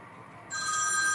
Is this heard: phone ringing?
yes